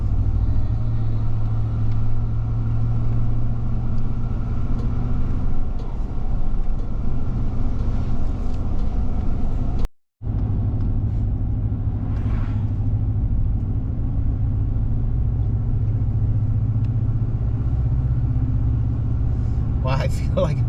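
A car climbs a mountain road and gives a steady low engine and road rumble throughout. There is a brief dropout midway, and voices can be heard faintly inside the vehicle.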